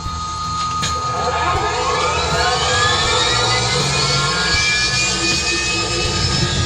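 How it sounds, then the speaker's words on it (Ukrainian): The right engine of a small aircraft starting up and running, a steady loud drone with rising whine tones that fills the whole clip without pause. "запускаємо правий двигун."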